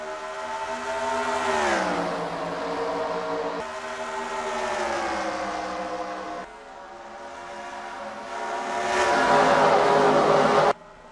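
Race cars in the PSRLA Grand National Series accelerating away at the green flag at Dover, a loud sustained engine roar with rising and falling pitch sweeps as the field passes, swelling again near the end before cutting off.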